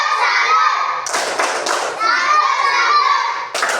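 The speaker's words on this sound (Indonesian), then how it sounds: "Oke, tepuk salut." Schoolchildren in a classroom perform a salute clap, a rhythmic patterned clapping chant, as sharp hand-clap bursts over a steady blend of young voices chanting and talking together.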